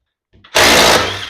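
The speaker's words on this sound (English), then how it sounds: "Take your drill," Power drill backing lag screws out of a garage door flag bracket, a loud sustained whirring burst that starts abruptly after a brief quieter rattle and runs close up to the end.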